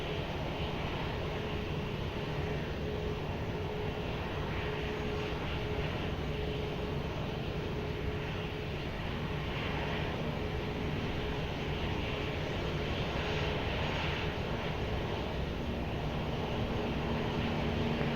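Airliner on approach to Lisbon Airport: a steady, distant jet engine roar with faint tonal hum that holds evenly throughout, no voices.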